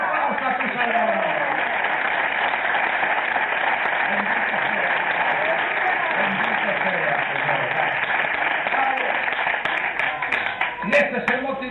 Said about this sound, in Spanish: ¡Aplausos a tu Salvador!